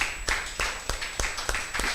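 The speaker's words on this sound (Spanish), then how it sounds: "Démosle un aplauso al Espíritu Santo" A church congregation claps together in praise, a run of broad sharp bursts repeating roughly every third of a second, moderately loud and close, with a faint steady tone hanging underneath.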